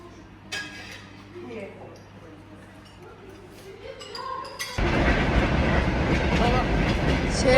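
Quiet voices and a few clinks, then a passing train in Kyrgyzstan suddenly roars in loud and close, its rumble and rattling filling the rest.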